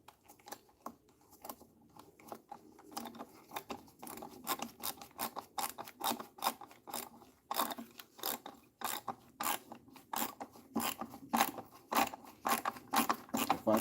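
A screw being driven by hand to fasten down a side panel: a long run of small, close clicking and ratcheting ticks with an irregular rhythm that grows slightly denser and louder toward the end, with no voice.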